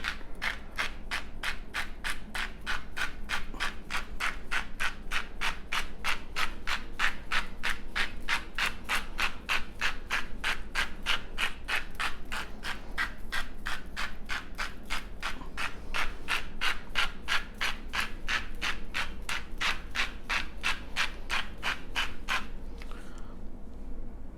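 Salt is rubbed onto the fat side of a brisket by hand, making a fast, even, rhythmic scratching and rubbing that repeats closely and steadily for over twenty seconds before it stops.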